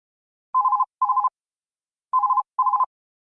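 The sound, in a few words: telephone ringing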